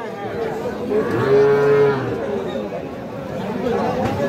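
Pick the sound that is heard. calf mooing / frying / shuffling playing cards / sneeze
calf mooing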